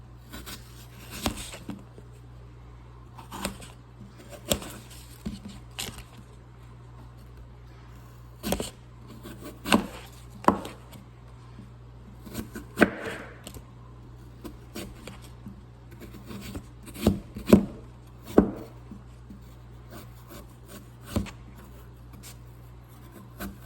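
A dull knife saws and scrapes through an apple being cut into horse treats, giving irregular close scratchy strokes and sharp little ticks spread across a quiet background.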